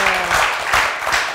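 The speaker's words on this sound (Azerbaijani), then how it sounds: "Doktorunuza bir alqışlar gəlsin." Studio audience applause on an Azerbaijani television talk show, a dense wash of clapping swelling and ebbing in waves across the short burst, loud and fairly close.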